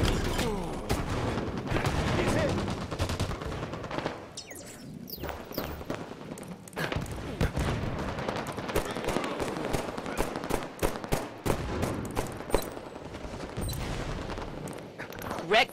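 Gunfire in the Halo 5 Warzone multiplayer video game: sharp shots and rapid bursts crack out again and again, some close and loud, others thinner, over a busy battle background.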